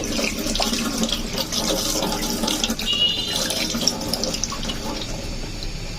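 Coriander leaves being rinsed under a running kitchen tap, a steady close rush of water splashing into a sink with leaves being handled, continuous throughout with no talk.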